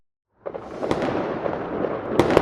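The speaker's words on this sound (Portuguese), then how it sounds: "som dos fogos de artifício ecoava por todo o mundo" Fireworks burst after a moment of silence, a loud, rumbling crackle that swells and sustains, with sharp pops standing out, then a final cluster of bangs.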